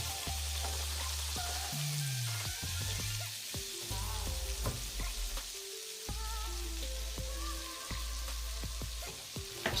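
Sliced onion sizzles steadily in a hot pan while a spoon or spatula scrapes and stirs through it, a continuous close frying hiss with irregular scraping strokes and a low hum underneath.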